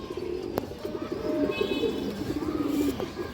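Black pigeons coo softly and steadily in a low, rolling murmur, with a sharp click near the start, fairly faint and with no voices.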